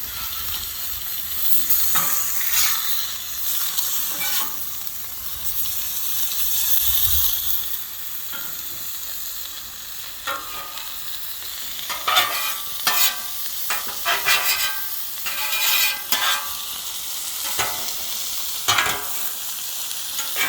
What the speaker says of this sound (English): We'll come back in a few minutes when this chicken is cooked